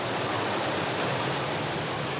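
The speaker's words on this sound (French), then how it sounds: "cette vague artificielle, créée par l'irrégularité du lit de la rivière" River water rushes continuously over an artificial standing wave formed by the uneven riverbed, a dense, loud, broadband roar with no pauses and no voices.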